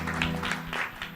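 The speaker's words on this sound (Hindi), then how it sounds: "जोरदार तालियां उस नासरी यीशु के लिए बजनी चाहिए।" Steady applause from a church congregation during a Maundy Thursday service, a continuous rolling clatter of many hands over a low hum, with no speech.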